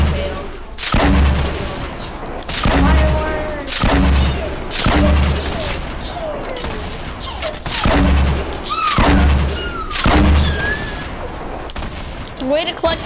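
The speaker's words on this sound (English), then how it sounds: "Fireworks!" Repeated loud firework-like blasts in a shooter video game, about seven heavy booms spaced a second or two apart with crackling and whistling tails, alongside excited voices.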